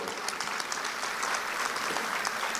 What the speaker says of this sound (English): Would you just give yourselves a great round of applause